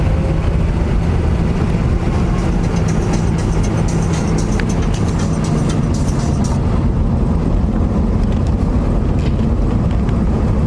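A 1979 Chevy G20 custom van's V8 engine drives continuously, loud and close, with a deep steady rumble and road roar filling the whole stretch and no talk.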